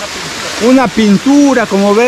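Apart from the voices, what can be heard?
waterfall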